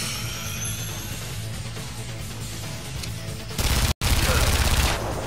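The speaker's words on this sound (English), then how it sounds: "Oh, that's an MG42." MG42 machine gun fire in the Operation Darkness game, a dense continuous rattle of rapid shots under busy battle noise, growing louder near the end with a brief cut to silence.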